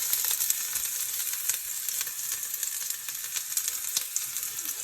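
Cumin seeds hit hot oil in a pan for bhindi masala and sizzle steadily, a bright continuous crackle with small pops, close and loud with no talking.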